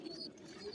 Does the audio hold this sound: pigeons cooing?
yes